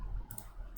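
A few faint, crisp computer mouse clicks sound close and quiet during work in STAAD structural design software.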